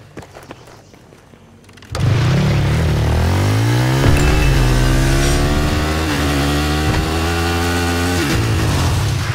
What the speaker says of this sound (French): Mais moi, je prends une moto du côté ennemi.